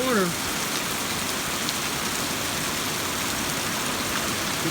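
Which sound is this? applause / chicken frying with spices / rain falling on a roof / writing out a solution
rain falling on a roof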